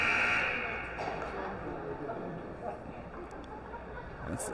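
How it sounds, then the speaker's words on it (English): At an ice hockey tournament game, the end-of-period buzzer blares loudly at the start, a sustained harsh tone that fades into arena noise and crowd murmur. "Buzzer blows."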